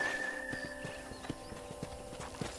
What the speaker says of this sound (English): I picked out a fine horse for you.